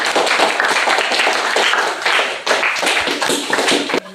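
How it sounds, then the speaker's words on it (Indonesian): A classroom group applauds a student presentation group, brisk crowded clapping that runs steadily for several seconds and then stops abruptly. "tepuk tangan untuk kelompok 2"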